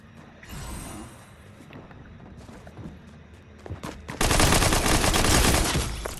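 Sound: SMG gunfire in the video game Fortnite

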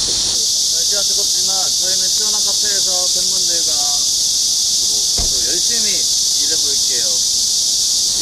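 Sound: cicadas chirping

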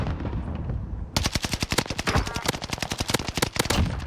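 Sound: gunfire in Call of Duty Vanguard Warzone video game

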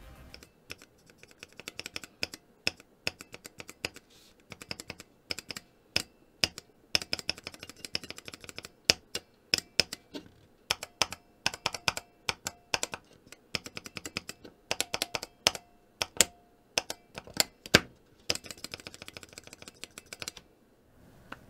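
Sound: typing on stock cream switches, stainless steel tester, GMK keycap

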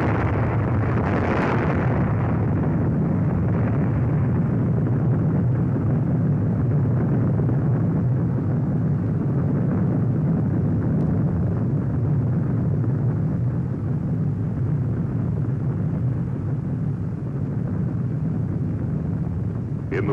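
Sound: nuclear bomb explosion in archival film

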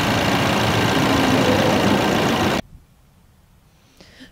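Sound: Ford Ranger 4-cylinder 2.3-liter engine running under the hood

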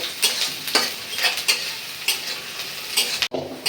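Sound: onion and garlic frying until brown

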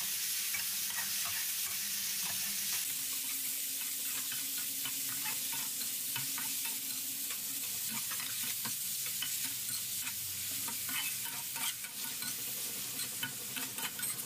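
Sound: stir-frying liver with garlic in a pan

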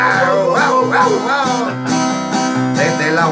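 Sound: dog barking, a tied-up dog in a radio parody

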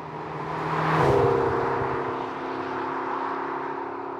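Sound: McLaren GT exhaust note while driving

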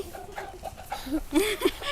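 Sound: chickens clucking

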